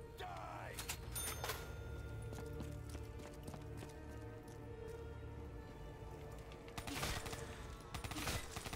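Pistol shots ring out in Call of Duty Black Ops 3 Zombies on the map The Giant, a few sharp bursts early and a louder cluster near the end over a steady game ambience.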